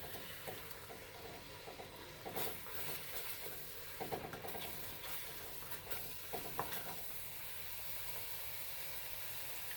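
Goat curry being stirred in a pot, a steady soft scraping and bubbling sizzle with a few louder spoon knocks against the pot, close and alone with no talk.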